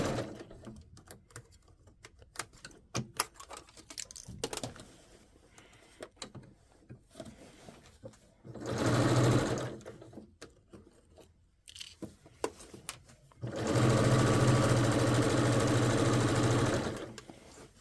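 A sewing machine stitches facings on a garment in two bursts, a short run and then a longer steady run, with quieter handling clicks and fabric rustling between them.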